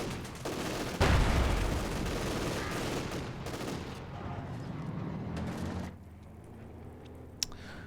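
A Maxim machine gun in the Company of Heroes 2 video game fires in dense, loud bursts layered over battle noise and explosions, then tails off into quieter background rumble.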